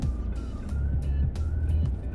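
A Mitsubishi L200 pickup's 2.5-litre four-cylinder engine rumbles steadily at low pitch, with a faint higher whine layered over it, as it coasts downhill.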